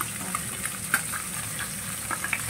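Fish fries in a pan, a close, steady sizzle with scattered sharp pops and crackles of spattering oil, no voices.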